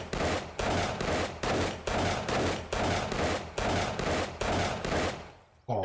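Rapid full-auto pistol fire in the survival video game 7 Days to Die, loud and close, in about eight sustained bursts separated by short gaps, ending in a brief pause with a faint click.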